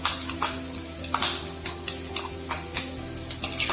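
Finely chopped capsicum being sautéed in a pan for a Mughlai paratha filling, with a soft sizzle under repeated scraping and stirring clinks of a utensil against the pan, close and steady, no voices.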